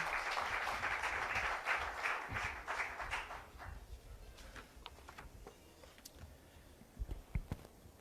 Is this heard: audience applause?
yes